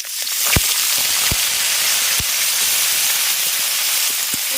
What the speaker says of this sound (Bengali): তেল গরম হয়ে গেছে এবার কেটে ধুয়ে রাখা উচ্ছেগুলো দিয়ে দিচ্ছি